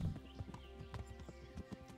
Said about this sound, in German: Pferd reitet sogar alleine.